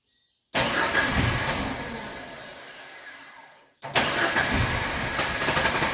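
An engine cranks and catches, runs briefly, cuts out, then restarts and settles into a steady loud idle.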